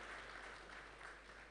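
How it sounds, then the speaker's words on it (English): Steady applause from a crowd at a launch event, a dense wash of clapping that holds evenly for a moment, fairly quiet and distant. "Please, another round of applause, a healthier one for him."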